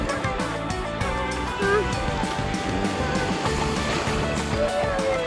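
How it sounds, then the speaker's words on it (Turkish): Sea waves washing and splashing around a child playing in the water, a loud, steady rushing surge close by with a swell midway, under a lively background. "Aa dalga geldi. Çok dalga geldi zıpla."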